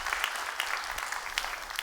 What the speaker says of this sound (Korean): 이런 박수 한번 해주셔요